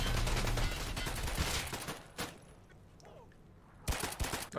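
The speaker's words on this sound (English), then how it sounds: "That's one hell of covering fire" Gunfire from a burst of covering fire in the shooter game Escape from Tarkov, with sharp reports early on, a lone crack near the middle and a renewed cluster at the end, all against a busy, noisy game backdrop.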